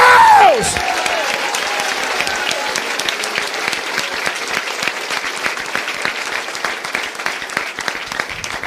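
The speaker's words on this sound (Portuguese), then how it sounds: "Pode aplaudir Jesus." A church congregation applauds loudly under a pastor's preaching, a brief voice opening before dense, sustained clapping fills the room at a steady level.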